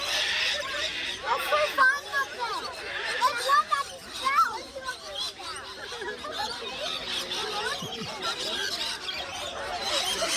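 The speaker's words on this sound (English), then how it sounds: "there were loads of birds around, so we knew feeding time wasn't too far away" A crowd of birds gathered at a campsite at Cania Gorge, waiting for feeding, chattering and squawking in dense overlapping calls, close and lively, with a voice talking among them.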